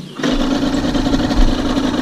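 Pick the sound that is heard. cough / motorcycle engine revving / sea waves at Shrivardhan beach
motorcycle engine revving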